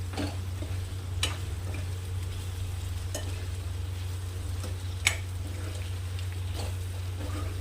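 Potatoes frying in a pan with garam masala, a low continuous sizzle under a steady hum, with occasional scrapes and taps as a spoon stirs the mixture; no one speaks.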